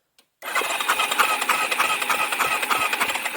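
A 1989 Yamaha Big Bear 350 ATV that sat for over ten years fires up after a short silence, settling into a steady, close, loud rattling idle with a rapid pulsing beat.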